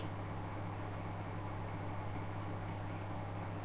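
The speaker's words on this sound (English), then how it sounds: "And that noise you can hear is my broken heater." A steady broadband whoosh with a low constant hum from a broken heater running as a fan nearby, unchanging throughout and with no one talking.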